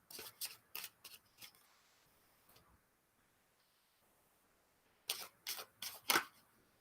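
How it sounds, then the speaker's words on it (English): A deck of cards is shuffled in two bursts of quick, crisp riffling clicks near the listener, with a quiet pause between them. "so we're going to shuffle up for Zuri."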